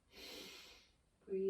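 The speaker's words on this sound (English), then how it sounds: "Little sniff, bigger sniff, breathing out." A person doing a yoga breathing exercise for stress relief takes a quick, breathy sniff inward. A short pause follows, then a brief voiced sound, all close and fairly quiet.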